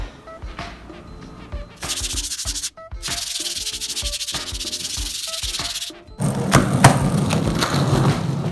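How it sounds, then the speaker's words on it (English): Sandpaper rubs back and forth over a cracked skateboard deck, a close, raspy scraping in several steady bursts separated by brief pauses. "I'm going to just give it a good rub, sand down with some sandpaper"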